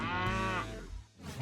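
A single head of cattle gives one long, loud, close moo that slides down in pitch, with no other sound around it.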